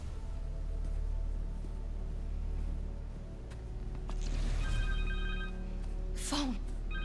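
A cell phone rings in Marvel's Spider-Man 2, a bright repeating tone over a steady background game ambience, briefly near the end with a louder chirp-like burst.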